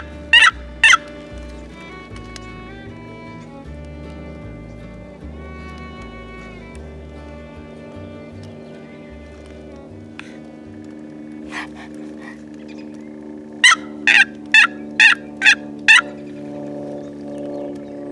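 Wild turkeys in spring in Colorado gobble back in response to calling, two short gobbles early and a quick burst of five or six later, fairly distant across a river, over steady low background tones.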